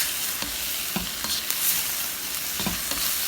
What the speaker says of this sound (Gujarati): મારું ગોસ તરાઈ ગયું છે